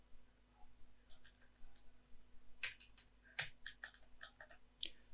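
A computer keyboard clicks as items are typed into an Excel sheet, with sparse, irregular key taps that come in small clusters over a faint steady hum, close and quiet.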